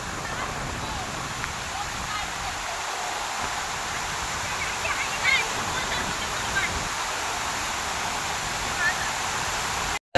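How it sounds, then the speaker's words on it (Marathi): Waterfall at Munjaba (Dhurnali) near Otur, a steady broadband roar of falling water filling the scene without break, with faint talk occasionally beneath it. "पाहू है तुम्ही कसं सुंदर अशा प्रकारचा धबधबा आहे"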